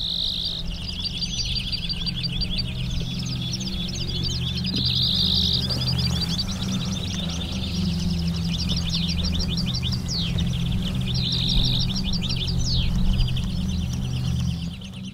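Decoy finches call and chirp steadily in the field during finch trapping on the coast near Matalascañas, with repeated bright trills over a continuous insect-like hum and low background rumble.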